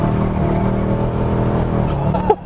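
A Mercedes E63 AMG with a 525 hp six-litre V8 runs at sustained revs, a loud continuous engine drone heard from inside the car, ending with a short burst of rustling and knocks.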